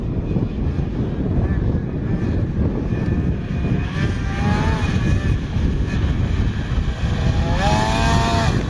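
An Arctic Cat race snowmobile engine runs steadily at moderate throttle outdoors on a windy day, a loud continuous drone with rising and falling whine as it changes pitch.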